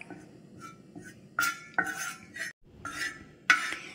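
Ingredients frying in a pan until coffee-brown are stirred with a spoon, giving sharp metallic scrapes and clinks in short bursts over a faint background sizzle, close up with no talking.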